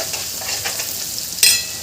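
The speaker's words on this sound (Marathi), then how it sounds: "हे छान मिक्स करून घ्यायचं आपल्याला" Ragda mixed with chopped tender coriander stems in a pan: soft sizzling and scraping stir strokes, steady and fairly close, with a slightly sharper scrape near the end.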